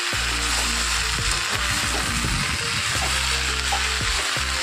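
Pui saag greens frying in a pan, a dense continuous sizzle with low crackling and faint movement in the pan, steady and close; no voices.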